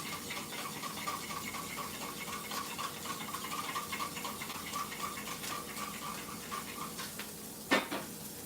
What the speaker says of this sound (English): Right now I'm mixing the tea.